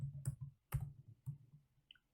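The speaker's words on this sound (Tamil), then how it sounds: "காப்பி ஆல் ஃபைல்ஸ் அப்படின்னு கமெண்ட் டைப் பண்ணுறேன்" A few quiet, irregular clicks of computer keyboard typing, close and soft, as a command to copy all files is entered while setting up a React Docker image.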